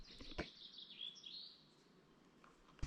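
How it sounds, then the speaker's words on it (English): Birds chirp and sing in a quiet forest in the Kauaeranga Valley, Coromandel, New Zealand, on a hot day, with a few high calls and trills in the first half, then mostly calm with soft background. "Just stop and listen to the birds."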